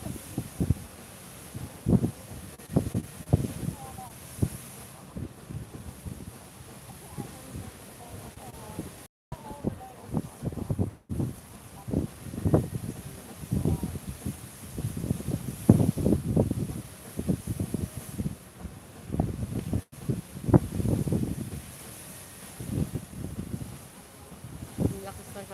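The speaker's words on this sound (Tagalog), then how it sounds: "Ang lakas ng hangin." Gusty wind buffets the microphone in rough, irregular rumbling bursts while people talk nearby outdoors.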